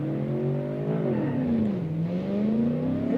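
A pickup truck accelerating hard while racing a Ferrari, its engine droning as a steady harmonic tone that dips and climbs again through a gear change, close and moderately loud with no voices.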